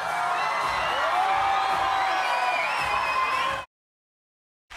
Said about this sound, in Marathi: जोरदार टाळ्या झाला पाहिजेत कुशळ बद्रिके यांच्यासाठी